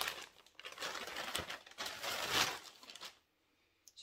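A plastic bag is crinkled while a clothing order of leggings is unpacked: quiet, close rustling and crackling bursts for about three seconds, then near silence with one small tap.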